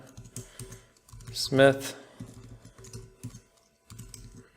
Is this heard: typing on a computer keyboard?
yes